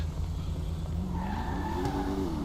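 Sports car cruising along a road in GTA 5, its steady engine drone running throughout with a rising pitch as it accelerates and a brief tire squeal near the end, no talk.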